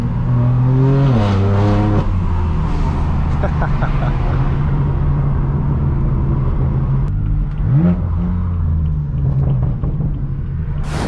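A straight-piped BMW M4 F82 is driven on the road, its loud exhaust rumbling continuously and rising and falling in pitch as the revs climb and drop through the gears.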